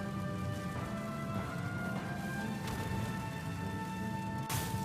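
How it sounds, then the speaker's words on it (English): Steady rain falls in the video game Just Cause 3, a soft continuous hiss under the low rumble of a vehicle driving through forest, with a couple of faint brighter splashes. "the rain was still coming down"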